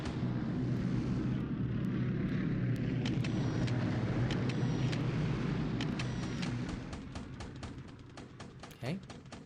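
Aircraft engines drone steadily in a World War II naval strategy game, a dense continuous roar that thins slightly near the end, with sharp interface clicks scattered over it.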